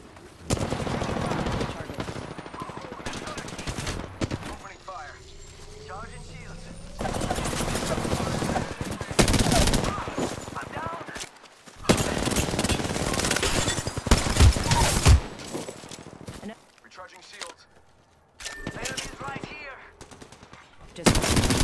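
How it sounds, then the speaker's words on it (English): Video game gunfire striking the player: loud, close bursts of rapid automatic shots, broken by brief pauses and stretches of quieter game sound. "Getting shot."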